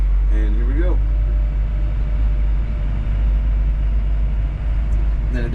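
D51 bulldozer engine rumbling loudly and steadily as it pulls off in forward gear, a deep continuous drone with brief bits of talk at the start and end.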